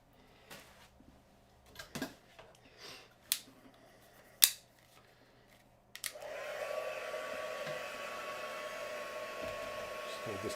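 A hair dryer drying glitter starts up after a few scattered clicks and taps, then blows in a steady, close, loud whir to the end.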